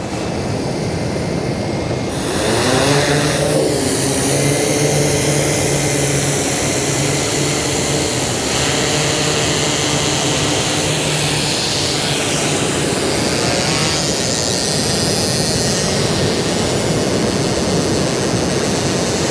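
A camera drone's propellers hum steadily at night over a fishing spot, a loud continuous whine that rises and shifts in pitch as it climbs, with no talking.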